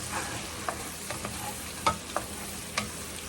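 Vegetables and onions sizzle in bacon grease in a pan for soup, with a steady close frying crackle and a few sharp stirring clicks.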